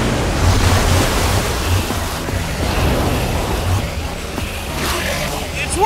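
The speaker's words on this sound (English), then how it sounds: "I don't know how much water this thing is going to kick out" Water gushes and rushes out in the Minecraft Story Mode video game, a loud, continuous, broadband roar with wind-like swells and a low rumble throughout.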